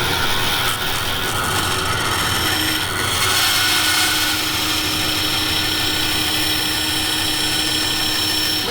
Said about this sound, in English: This is the beauty of a bandsaw.